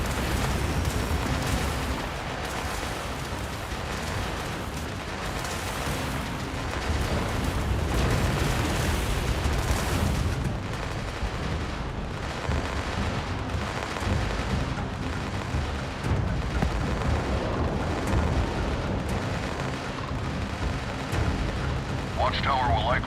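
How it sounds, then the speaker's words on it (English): Eight video game spaceships firing Darkstar weapons, a dense, continuous barrage of booming explosions and weapon bursts, loud and sustained throughout. "So that's what 8 ships, all with Darkstar weapons, do."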